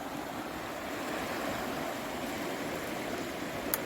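A river flows at a nearby bank in a steady broadband rush, constant and moderately loud with no talking, ending in a brief faint click.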